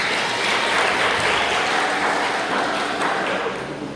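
A room of Islamic boarding school students at a student council election event applauds steadily for about four seconds, a dense, even clapping that fades slightly at the end.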